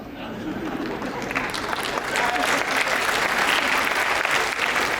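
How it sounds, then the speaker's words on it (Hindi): Audience applause at a Hindi poetry gathering (kavi sammelan), a steady, dense wash of clapping that swells slightly louder midway and carries on throughout. "तालियां आपकी कमजोर हैं।"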